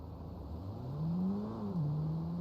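A motorcycle engine revs in a modded video game, its tone climbing, holding and then settling back to a steady drone. The sound is moderately close and there is no talk.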